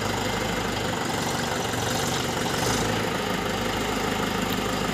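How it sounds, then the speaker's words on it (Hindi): A Mahindra tractor engine runs steadily during loading onto a trailer truck, a loud, continuous low diesel drone with a slight knock, close by and without talk. "ट्रैक्टर कैसे लोड होते हैं वो मैं आपको दिखा रहा हूँ।"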